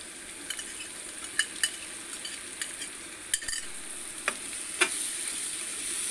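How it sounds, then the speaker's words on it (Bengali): Spice paste for prawn polao, with green chillies, chilli powder and sour yogurt, sizzles gently in a pan while a spoon scrapes and taps now and then, soft and close with no voices. "এবার মশলাটা ভালো করে কষিয়ে নেব।"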